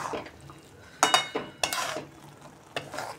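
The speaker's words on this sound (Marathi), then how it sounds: "ते पण आपण असं छान मिक्स करून घेऊया." Spoon stirring red chili powder and spices into chunks of amla gooseberry relish in a pot, a few scraping, clattering strokes in quick bursts, close and moderately loud, no talk.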